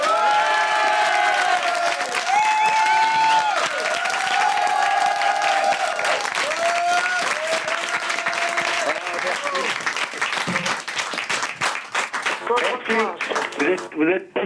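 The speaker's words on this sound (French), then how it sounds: "Alain, les gens vont t'applaudir à la hauteur de ceux qui t'aiment dans le studio" Studio audience on a French TV talk show bursts into loud, sustained applause and cheering with whoops, while voices talk over it; the clapping thins toward the end.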